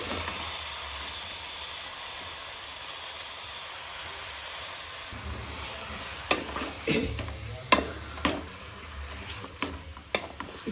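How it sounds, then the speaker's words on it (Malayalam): Chicken tipped into plenty of hot oil with chili-powder masala for a chicken biryani sizzles steadily. Partway through, the frying swells louder with sharp stirring clatters and scrapes of the spoon against the pan. "നമുക്കിനി ഇതിൽ ചിക്കൻ ഇട്ട് കൊടുക്കാം"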